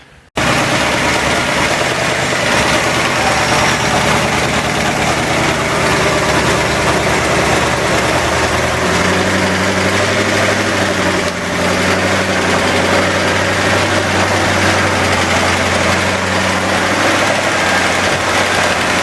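A junkyard V8 engine idles loudly and steadily up close, with a constant rumbling drone, ticking lifter noise and a slight miss, after sitting unused for a long time; no talking is heard.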